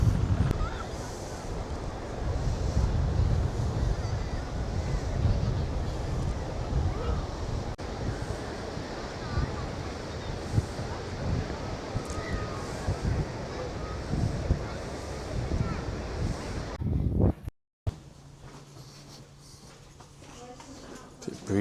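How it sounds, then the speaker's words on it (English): Seaside wind on a coastal walk between Amroth and Saundersfoot buffets the microphone in loud, continuous gusts with surf beneath, cutting out briefly before a calmer stretch. "Bit breezy in here, isn't it?"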